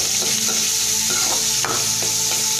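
Chopped small onions (shallots) dropped into hot oil for pappadam upperi. The oil gives a loud, continuous sizzle, close up, with a few light utensil knocks and a faint tonal hum, and no one speaks.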